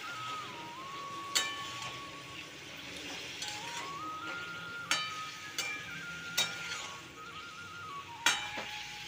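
Cauliflower and potato being stirred with salt and turmeric in a pan give off repeated metallic clinks and scrapes of a utensil against cookware, several sharp knocks standing out over a steady low kitchen hum.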